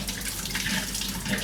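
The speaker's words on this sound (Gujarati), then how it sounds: "તો દાળનું પાણી આપણે કાઢી નાખીશું." Soaking water from soaked urad dal being poured off, a steady close splashing trickle running without a break.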